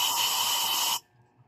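Steady hiss of compressed air from an air duster blown into the exhaust port of a Yamaha Mio scooter engine, loud and close for about a second, then cutting off abruptly to near silence.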